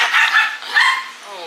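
Several dogs bark and yip in a brief squabble nearby, sharp overlapping barks that are loud and close, mixed with people's voices.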